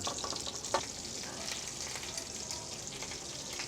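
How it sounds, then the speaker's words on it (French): Lamb laid with its bones on a hot roasting plate in a restaurant kitchen, crackling in a busy, close, continuous sizzle with a sharp spit near the start. "dès que la plaque elle chante, on y met l'agneau"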